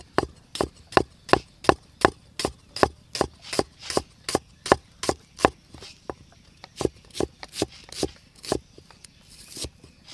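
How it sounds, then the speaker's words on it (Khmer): A knife chops red onion on a wooden cutting board, with steady, loud, close knocks about twice a second that slow and thin out toward the end. "នេះបន្ទាប់មកយើងហាន់ខ្ទឹមក្រហម"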